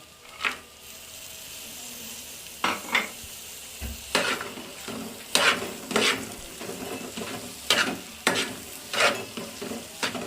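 Carrot halwa with fried cashews, almonds and pistachios, mixed with egg, sizzles steadily in a pan while a spoon scrapes and stirs in a series of sharp, close strokes.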